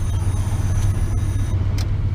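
A 1972 Chrysler Newport Custom's interior blower fan runs steadily, a loud continuous whooshing hum with a low rumble underneath, close by, with no talking.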